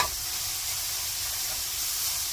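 Minced garlic stir-fried over medium heat in a pan sizzles with a steady, bright hiss, held close and alone without any talking.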